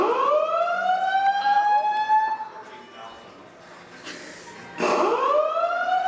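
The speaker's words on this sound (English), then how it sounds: "The fire alarm" A fire alarm in a hotel blares a loud, rising electronic siren wail that restarts partway through, with people talking underneath it.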